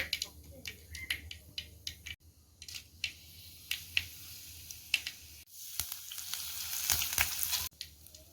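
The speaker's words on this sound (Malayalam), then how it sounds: "കടുക് വറുക്കാൻ വേണ്ടി അല്പം എണ്ണ ഒഴിക്കാം." Mustard seeds frying in hot oil for an anchovy peera: close, irregular crackling pops over a steady sizzle that grows busier toward the end.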